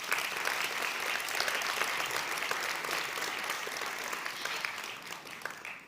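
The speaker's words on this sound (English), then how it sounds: "Let's roll a round of applause for those people who made this event possible." Sustained audience applause at the Moldova Innovation Awards, a full room clapping steadily throughout, moderately distant and even, tapering slightly toward the end.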